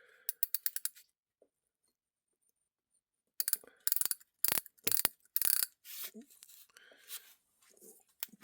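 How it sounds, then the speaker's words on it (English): A micrometer ratchet clicks while a piston is measured for bore clearance: a quick run of crisp clicks, a long silent pause, then louder clicking bursts and handling noise. "you turn this until it clicks"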